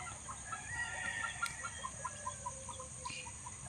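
Chickens cluck in a steady, rhythmic series of short calls, fairly distant and soft against a constant background hum.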